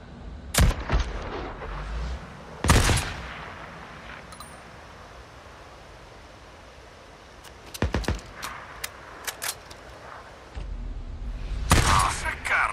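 In the video game Days Gone, sharp gunshots crack out singly and in short bursts across a quiet background, spaced apart with long pauses between them. Some land closer and louder than others.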